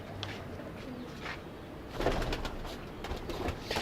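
A female pigeon coos softly amid steady background noise, low throaty calls repeating through the short stretch.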